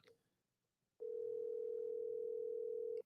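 A telephone dial tone sounds during a call, a steady unbroken electronic hum lasting about two seconds after a brief quiet start, clear and moderately loud.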